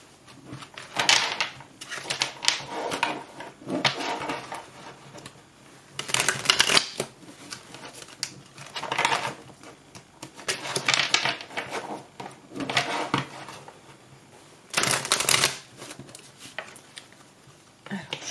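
A deck of tarot cards shuffled by hand in a series of rustling, riffling bursts, with quiet gaps between them and a voice speaking faintly at times.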